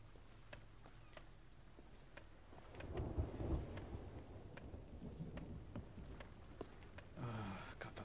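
A thunderstorm rolls through a pirate video game, a deep rumble of thunder swelling midway under a faint steady patter of rain, with light ticking drops scattered across the quiet background.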